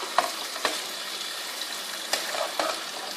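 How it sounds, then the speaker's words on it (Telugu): Pieces of fish fry in oil with onions for a Telugu-style fish curry, a steady soft sizzle broken by several sharp clicks and scrapes from the pan, close and alone without talk. "ఈ ఉల్లిపాయలో ఉండి తడి దీని ఆయిల్తోనే చేప ముక్కలు మగ్గిపోతాయి."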